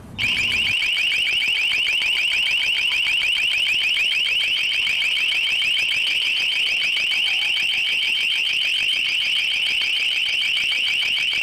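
A piercing, high-pitched long-range acoustic device alarm tone, used for crowd control, blares continuously and loudly, pulsing rapidly without a break for over ten seconds.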